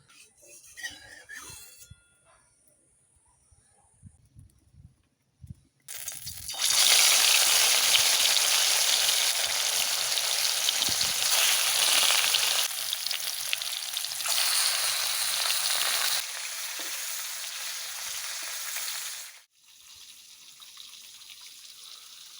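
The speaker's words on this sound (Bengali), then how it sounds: "মাছগুলো ভেজে নেব, সরষের তেল দিচ্ছি।" Snakehead fish pieces go into hot mustard oil and burst into a loud, dense sizzle that runs steadily for about thirteen seconds before cutting off, with faint kitchen clatter before it starts.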